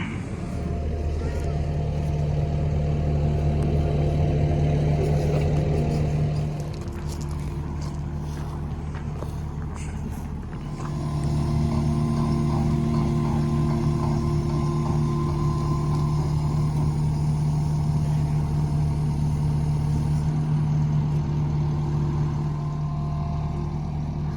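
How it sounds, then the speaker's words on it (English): A skid steer fitted with 7-foot forks drives across a home building site during a hot tub install. Its diesel engine holds a steady, loud droning hum throughout, dipping briefly midway before rising again. "he's bringing the skid steer over with 7-foot forks"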